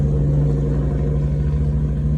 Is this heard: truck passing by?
yes